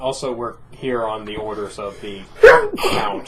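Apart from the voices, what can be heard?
a person sneezing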